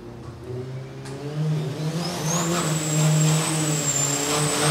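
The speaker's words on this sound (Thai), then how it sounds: "คันต่อไปครับ หมายเลข 73 ครับ อนุวัตมณีอิน" Diesel race car, number 73 in the Super Max class, on a qualifying run at Souped Up 2019, revving hard and accelerating past with a rising engine whine, loud and close, with no talk over it.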